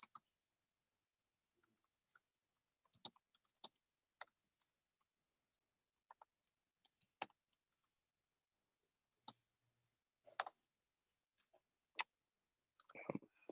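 Quiet keystrokes on a computer keyboard come in scattered short bursts with pauses between them, faint and close, with no talk.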